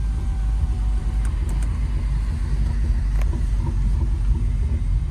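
A Renault Clio 4 RS Trophy on the road under engine braking with the stock Renault Sport exhaust, a steady low rumble from the car with a few faint crackles.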